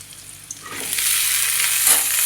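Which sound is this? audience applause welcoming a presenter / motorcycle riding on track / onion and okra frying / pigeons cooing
onion and okra frying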